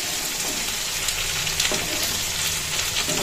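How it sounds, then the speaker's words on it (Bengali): Dal is tempered in hot oil, giving a close, steady sizzle and crackle with no talk. "ডালও ফোড়ন দিয়ে দিই,"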